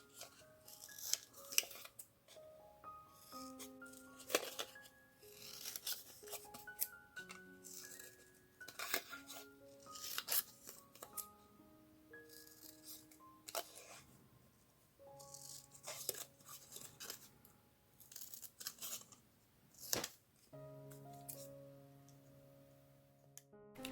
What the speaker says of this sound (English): And then I've got a piece of blue cardstock, and I'm going to cut a primitive looking star.